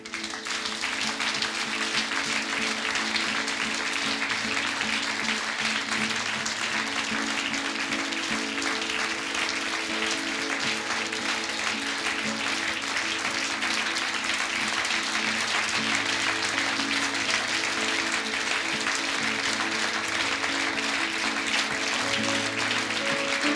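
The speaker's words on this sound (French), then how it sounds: "On peut applaudir le Seigneur." A church congregation applauds during a sermon, sending up sustained, even clapping that runs on without a break, with faint musical tones underneath.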